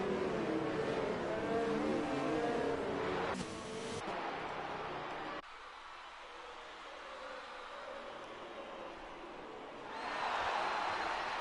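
A Formula 1 car in an F1 racing game pulls away at Monza in Italy, its engine snarling loudly, then dropping back briefly before rising again toward the end.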